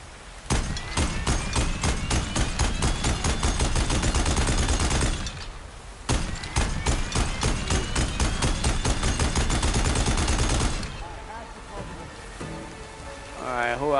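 Rapid bursts of automatic gunfire in Horizon Forbidden West, loud and dense, pausing briefly around the middle and tapering near the end.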